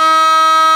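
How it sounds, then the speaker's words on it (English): Air horns fitted to a Vespa scooter, fired by touching the horn wire to the battery's positive terminal, let out a single loud, steady, brassy blast that fills the whole moment. "So this is the wire to the horns right here, and I'm going to go ahead and honk it."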